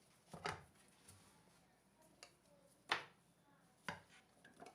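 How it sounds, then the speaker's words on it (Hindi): A knife chops green chilies on a cutting board with quiet, irregular thuds and a few sharper knocks, spaced about a second apart, in a quiet room. "सब्ज़ मिर्चें, इनको भी छोटे पीसेस में काट कर ऐड कर लेंगे।"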